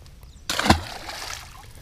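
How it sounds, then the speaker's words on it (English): One sharp splash of a bass let go back into a pond, followed by a brief fading slosh of water, close by and otherwise quiet. "let's get this fish back in the water"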